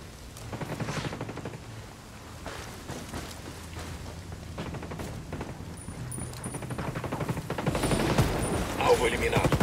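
Enemy gunfire in the video game Ghost Recon Wildlands crackles in rapid bursts at moderate distance, growing louder toward the end, under a player's talk.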